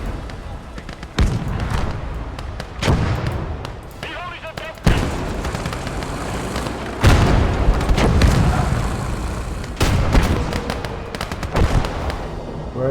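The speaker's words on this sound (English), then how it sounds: "Get some artillery on that." Heavy booming gunfire and explosions in a tank-and-artillery battle in the game Motherland, with repeated loud, close blasts and rumbling impacts under shouted voices.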